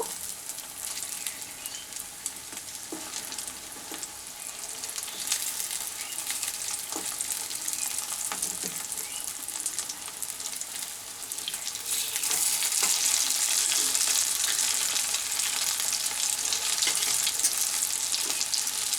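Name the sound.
dhoka lentil cakes frying in a pan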